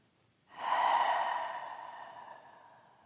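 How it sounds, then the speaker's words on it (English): A single long open-mouth exhale during a slow yoga flow, breathy and airy, swelling quickly then fading gradually over a few seconds, close and alone with no talk. "Now you can come back to those open mouth exhales."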